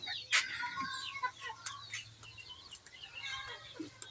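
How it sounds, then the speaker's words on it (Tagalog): Backyard chickens cluck in short, scattered calls at feeding time, some nearer and some farther off, over a low steady hum with no voices. "Mga manok."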